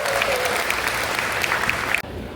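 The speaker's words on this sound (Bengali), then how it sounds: "আমরা একটা জোরে করতালি দেই তিনজনের জন্য।" An audience at a Bangladesh festival in Toronto gives a big round of applause for three performers, a loud, even burst of clapping that cuts off sharply near the end.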